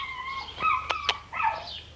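Dogs rescued from the street play together in a village, giving high whining squeals and two sharp yips close by, with no voices.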